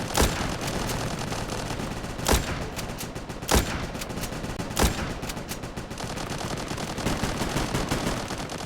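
Sniper rifle shots in a first-person shooter video game: four sharp, loud single reports spaced a second or more apart, standing out over a constant busy bed of game noise and distant gunfire.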